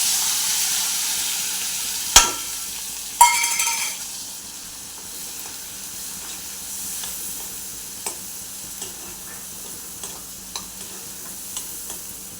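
Prawns frying in a pan with a low, steady sizzle, two sharp clangs of a utensil early on, then soft regular ticks of stirring spaced about a second apart.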